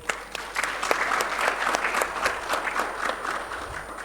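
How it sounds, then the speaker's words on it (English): Audience applause rises for three panelists at a microfinance and digital technology summit: dense, steady clapping from a sizeable crowd holds at an even level throughout, with individual sharp claps standing out over the wash. "may we all please give them a big round of applause"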